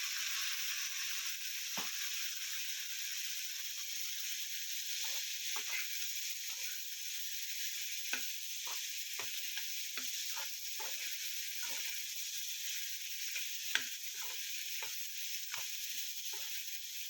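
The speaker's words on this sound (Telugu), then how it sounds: "ఇప్పుడు మనం బాయిల్ చేసి పెట్టుకున్న వెజిటేబుల్స్ని వేసేస్తాను దీంట్లో." Vegetables boiled beforehand go into a hot pan for pav bhaji, cooked without onion or garlic, giving a steady close sizzle with scattered ticks and pops from stirring throughout.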